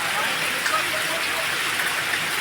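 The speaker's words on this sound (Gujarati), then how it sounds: "સતત વરસાદ ચાલુ જ છે" Steady, dense monsoon rain hisses without a break in the Gir region, a loud continuous downpour filling the whole scene with even broadband noise.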